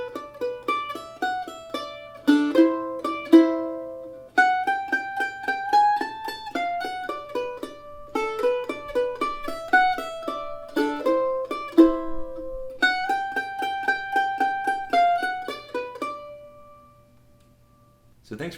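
Solo mandolin works slowly through the B parts of a bluegrass tune, with crisp picked notes in steady phrases, close up, then a last note ringing out into near silence.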